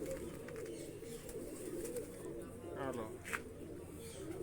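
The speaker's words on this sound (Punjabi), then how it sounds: "ਇਹ ਆਪਣਾ ਜਿਹੜਾ ਕਬੂਤਰ ਆ" Soft pigeon cooing, low and repeated, mixed into a busy background with voices nearby.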